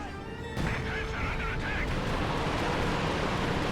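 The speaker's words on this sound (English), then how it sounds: "Let's see, artillery going down." An artillery barrage pounds the battlefield in Company of Heroes 2, a dense, continuous rumble of explosions and blasts that swells loudly after a brief quieter start.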